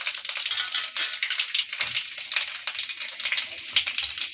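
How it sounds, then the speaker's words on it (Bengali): Three dried red chillies and a five-spice tempering fry in hot oil, giving a steady, dense crackling sizzle that stays close and moderately loud throughout with no talking. "তেলটা গরম হয়ে যাওয়ার পর দিয়ে দিয়েছি 3টে শুকনো লঙ্কা, তারপর দিয়ে দিলাম 5 ফোড়ন।"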